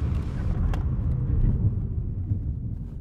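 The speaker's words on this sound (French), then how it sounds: "Freinage fort." A car brakes hard, giving a steady, close low engine rumble that eases slightly as it slows.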